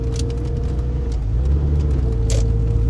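A Honda Concerto or Rover R8 car drives along with a steady tonal whine held above low engine and road rumble, continuous and close inside the cabin, with no talking.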